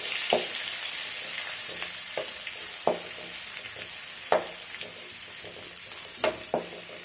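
Onions sautéing in a pan for vada curry give a steady broadband sizzle, broken by several sharp clinks and scrapes of a spoon stirring against the pan, close and fairly loud, with no talk.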